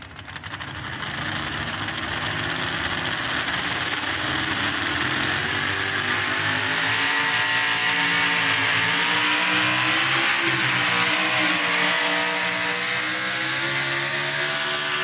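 A big tractor-pulling engine roars loudly and continuously at a tractor pull in central Missouri, its pitch slowly rising and falling as it revs under heavy load, with no talking.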